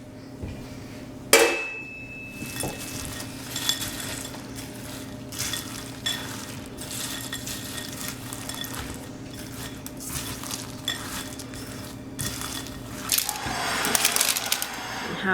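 Crispy roasted chickpeas dumped into chocolate toffee in a pan, a sharp clattering pour followed by sticky scraping and stirring scrapes, ending with a brighter burst of rattling.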